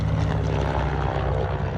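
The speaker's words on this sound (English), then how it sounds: "I saw a Cessna 337, which I thought was pretty cool" A Cessna 337 push-pull twin-propeller plane flies near an airport, its engines giving a loud, steady droning roar with a rough pulsing texture, close and constant for the short stretch, with no voices.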